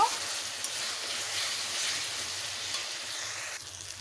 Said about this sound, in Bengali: মশলার মধ্যে সামান্য জল দিয়েছি দিয়ে ভালোভাবে কষে নেব